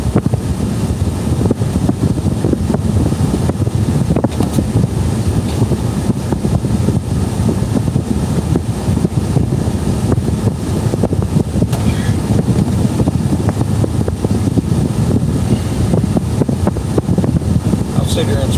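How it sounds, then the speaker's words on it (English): Cold wind gusts across the microphone outdoors, a steady loud rumbling buffet that runs unbroken for the whole stretch, with faint voices now and then underneath. "Wind blowing on you, some cold wind blowing on you."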